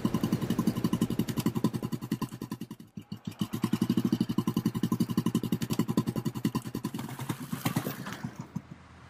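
A Royal Enfield motorcycle engine runs close by with a steady, pulsing thump, easing briefly near three seconds before picking up again and carrying on loud through the end, with no talking over it.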